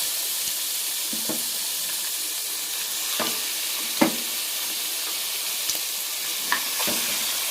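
Washed goat meat sautéed with spices in a pan gives a continuous hissing sizzle, broken by a few sharp scrapes and taps from a stirring spoon, close and steady, with no voices.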